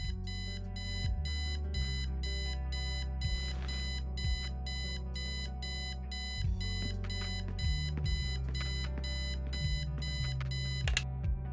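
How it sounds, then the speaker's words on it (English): An alarm clock rings in the adventure game Kathy Rain, a loud, steady, rapidly repeating electronic beeping that carries on for over ten seconds, with no talking. "I set the alarm so you won't miss the funeral"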